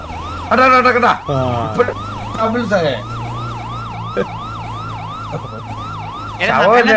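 A loud, wailing video game siren cycles up and down in rapid repeated sweeps, with voices talking over it at the start and end.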